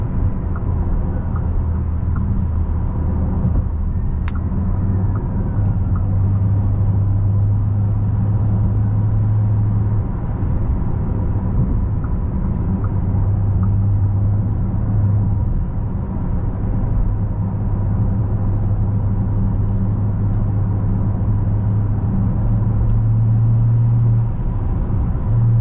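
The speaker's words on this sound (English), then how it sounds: "You can probably hear the rumble." A deep W12 engine rumble drones steadily inside a moving Bentley Continental GT W12 Mulliner, with a low hum rising and falling as it drives, no talking.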